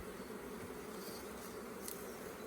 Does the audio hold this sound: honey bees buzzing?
yes